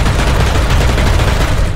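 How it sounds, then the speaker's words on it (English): Loud, dense gunfire in a shooter video game, a rapid rattling volley that fills the whole moment close up with no talk over it. "I shot him through the hole in the fucking building."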